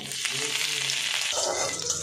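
Whole cumin, chopped ginger and green chili fry in oil in a wok, giving a bright steady sizzle with brief stirring scrapes, close and fairly loud.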